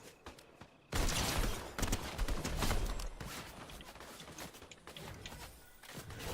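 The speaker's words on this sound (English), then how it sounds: "There's fucking bullets coming from every single direction" Dense gunfire in a multiplayer shooter video game erupts suddenly after a quiet second, a rapid rattling fusillade of loud, close shots with sharp bursts continuing throughout, no talk.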